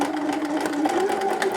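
A sewing machine hums close and steady, stitching a short seam on a child's pajama, a continuous mid-pitched whir with no pauses.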